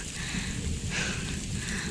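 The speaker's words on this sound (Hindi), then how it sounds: "तो गाइस इतनी मोटी मोटी बारिश होने लगी है यहाँ" Steady, dense hiss of heavy rain falling on farm fields, continuous and fairly close, with no voices.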